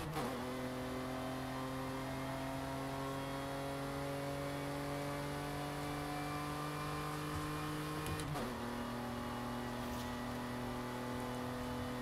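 A Range Rover Velar engine in Forza Horizon 5 climbs steadily through a long, droning acceleration, then drops briefly at a gear change before pulling again, loud and continuous throughout.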